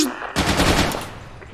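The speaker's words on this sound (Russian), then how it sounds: "Где стрельба?" Rapid automatic gunfire in the video game Intruder bursts in loud and close after a brief lull, a dense continuous rattle of shots with a faint voice underneath.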